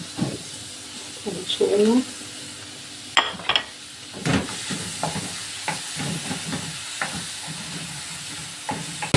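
Chopped onions fry in about four spoonfuls of oil. A soft, steady sizzle with occasional stirring clatter runs under someone talking throughout.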